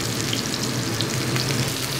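Chicken cutlet pan-frying to a golden brown gives off a dense, constant sizzle and crackle, close up and uninterrupted.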